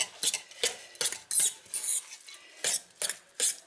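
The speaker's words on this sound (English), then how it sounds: "what I'm going to do is mix up that butter and nutmeg" Butter and nutmeg are stirred into cooked spaghetti squash, with a series of quick, close scraping and clinking utensil strokes in an uneven rhythm. There is no talking.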